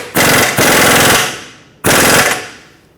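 A wrench tightens a front lower control arm bolt on a 2006-2010 Hyundai Sonata in two loud, close rattling bursts, each about a second long, with the second coming after a short pause.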